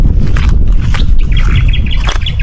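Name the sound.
birds chirping by river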